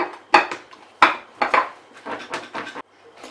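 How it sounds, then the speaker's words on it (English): A container of onions with olive brine shaken in a kitchen, giving several close, sharp rattling knocks in an uneven rhythm, with no talking. "adding some olive brine to them and giving them a shake"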